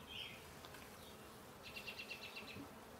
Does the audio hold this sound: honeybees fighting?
yes